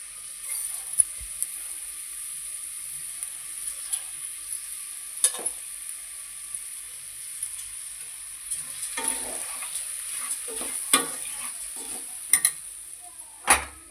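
Washed, drained rice is stir-fried in oil for cauliflower pulao, a soft sizzle under intermittent scraping and stirring knocks of a spoon against the pan, growing busier toward the end, with no talking.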